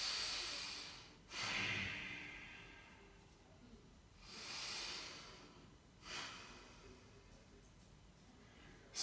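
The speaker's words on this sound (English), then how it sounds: "Breathe through here." Slow, deep breathing during a yoga pose in an isolation flow session, with three long, airy breath cycles heard close and quiet and no talking.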